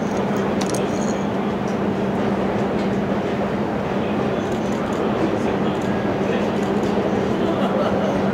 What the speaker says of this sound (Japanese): まもなく6番線の回送列車が発車となります。